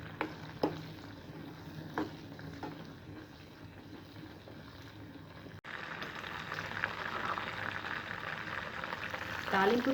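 Cumin, curry leaves, dried chillies and a little coriander sizzle in hot oil as a tempering, with a steady crackling hiss and a few sharp pops that grow louder partway through.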